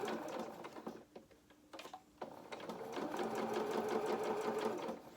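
A sewing machine stitches fabric for a toy elephant head, bursts of rapid needle chatter stopping and starting, then a longer steady run, heard close with someone talking faintly alongside.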